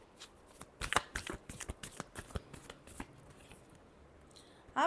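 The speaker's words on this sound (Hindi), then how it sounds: "Last shuffle." Tarot cards shuffled up close, a quick run of papery riffles and sharp card snaps that thins out toward a few softer slides, ending in a final louder flutter; no one speaks.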